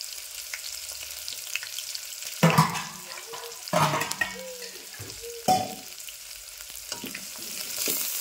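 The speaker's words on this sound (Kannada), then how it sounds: "ಈ ಉಳ್ಳಾಗಡ್ಡಿ ಒಂದು ಸ್ವಲ್ಪ ಒಳ್ಳೆದ ಕೂಡ ಬರೋವಂಗ ಫ್ರೈ ಮಾಡ್ಕೊಬೇಕು." Chopped onions fry in a pan with a steady soft sizzle, broken by a few louder stirring scrapes and clatters of a spoon against the pan, with no talking.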